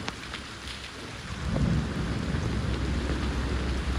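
Heavy rain pours down during a bicycle ride, a thick, close roar of water that swells louder partway through, with deep rumbling underneath and no talking.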